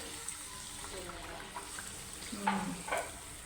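Puri frying in hot oil, cooked as prasad for a Santoshi Mata udyapan, gives a steady low sizzle with a few brief bubbling bursts and a utensil scrape near the end, fairly quiet and close.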